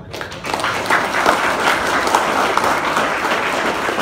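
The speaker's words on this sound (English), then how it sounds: "I would like to request for another round of applause for Hannah and Imran in fighting speaking" An audience at a graduation ceremony in Shah Alam claps steadily, a full, close wash of applause that holds at an even level for about four seconds with no talk over it.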